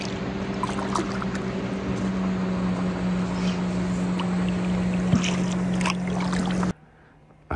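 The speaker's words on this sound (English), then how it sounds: "because the boat traffic is getting heavy." Boat traffic on a busy holiday lake seen from a canoe: a steady motorboat engine drone with a low hum and water wash runs continuously, then cuts off abruptly near the end.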